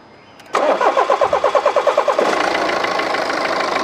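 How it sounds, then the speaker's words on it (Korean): A BMW G30 520d diesel engine cranks with a rapid series of starter pulses, then catches and settles into a steady, loud, close-up idle. "시동 걸어봐."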